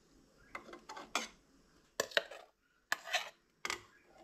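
Spoon stirring chana masala with chili in a metal pot, several clusters of scraping clinks and knocks separated by short pauses, close and fairly soft with no talk.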